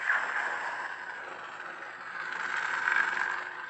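A Kylo Ren lightsaber sound font from a Saber Theory Knight baselit saber hums steadily, layered with crackling static. The hum swells and fades slightly over a few seconds, close and alone.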